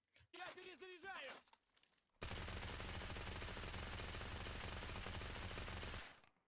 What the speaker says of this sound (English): next up we have the PPSH 41S. A suppressed and premium PPSH 41.